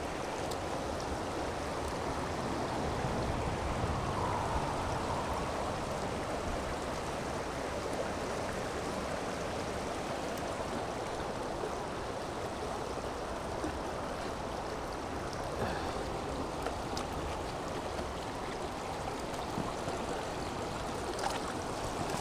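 Flowing stream water at an Appalachian Trail crossing rushes in a steady, soft broadband wash, continuous and fairly distant with no talking.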